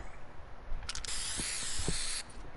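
Hissing spray-paint burst in Fortnite, a loud continuous aerosol hiss lasting over a second with a few short preceding spurts and faint clicks, no talking over it.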